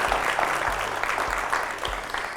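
Public applause for a jury member on the French TV show Pépite, a steady, even patter of many hands clapping, with a faint low thumping beneath it.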